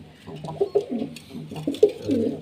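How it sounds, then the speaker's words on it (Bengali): Pigeon cooing from a pair of fancy pigeons, a white male and a tiger-patterned female on a home loft farm: several soft, rhythmic, throaty coos repeated close by, with no talk over them. "মাশাল্লাহ সুন্দর ডাকের কবুতর।"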